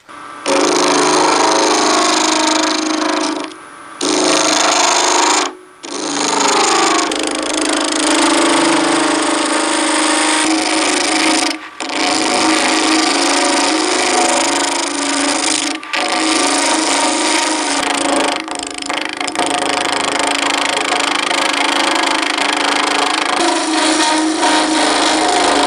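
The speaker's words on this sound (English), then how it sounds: "I have started rounding down or bringing this chunk of aluminum down to round" A lathe turns a chunk of aluminum bar down to round, with a loud continuous cutting and motor roar broken by a few brief pauses.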